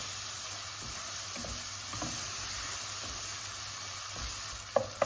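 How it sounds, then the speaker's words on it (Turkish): Red lentils sautéing in a pot for soup give off a steady, soft sizzle with occasional stirring scrapes and a couple of sharper clinks near the end, close and alone. "Biraz da mercimekle kavuruyoruz."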